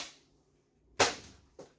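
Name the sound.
McCree toy blaster firing an ammo round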